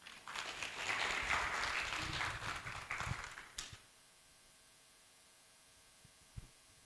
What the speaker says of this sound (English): Let's welcome him with a clap, please.